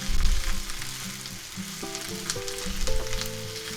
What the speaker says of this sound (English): The onions are starting to turn translucent. And the peppers are just starting to soften good.